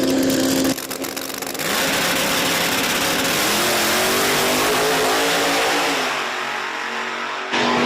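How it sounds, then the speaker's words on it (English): Small tire class drag race cars at Virginia Motorsports Park accelerate hard down the strip, a loud sustained roar with rising engine pitch that gradually fades as they pull away. "What a drag race."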